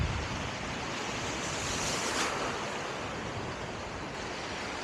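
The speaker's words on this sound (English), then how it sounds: "Pushing against the waves at the minute to get out of it." Sea waves surge and break in a steady, loud roar of broadband wash on a shore where a push net is being worked, with a slight swell midway and no talking.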